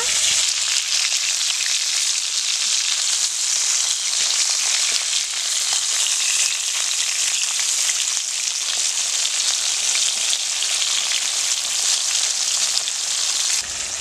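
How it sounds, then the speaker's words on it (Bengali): Bhola fish frying in a wok, browning on each side, gives a dense, steady sizzle with fine crackling spits throughout, loud and close, no voices. "মাছটা একটু লাল লাল করে ভাজতে হবে,"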